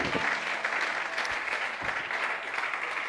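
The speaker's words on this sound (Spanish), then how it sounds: "Dale ese aplauso al Señor." A church congregation claps together in steady, dense applause that fills the room evenly from start to finish, with no single voice standing out.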